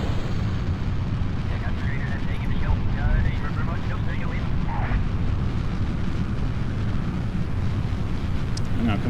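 Rocket engine at full throttle in the Kerbal Space Program video game, a loud, steady, continuous rumbling roar that holds throughout, with someone talking over it.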